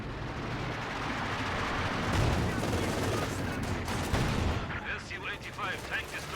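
An Ishka rocket launcher firing in the Company of Heroes 2 strategy game, a dense barrage of booming blasts and crackling impacts layered with other battle gunfire, loud and continuous, with rocket whooshes near the end.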